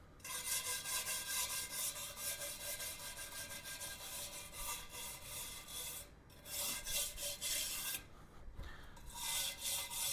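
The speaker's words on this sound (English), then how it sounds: "I'm just going to wire brush this a little bit, get this loose rubber off of it." Wire brush scrubbing loose rubber off a 2007 Yamaha motorcycle wheel during tire replacement at home, a steady raspy scraping with rapid back-and-forth strokes, fairly quiet and close, with two brief pauses and no talking.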